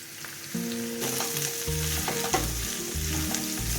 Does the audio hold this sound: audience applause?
no